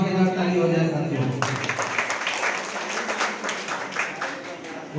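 Someone speaks briefly, then a crowd breaks into loud, sustained applause, many hands clapping together and continuing steadily to the end.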